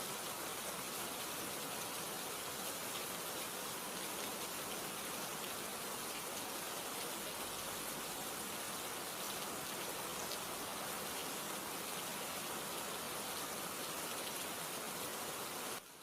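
Heavy, steady torrential rain pours down without a break in Murree, Pakistan, a dense, loud hiss of drops hitting surfaces.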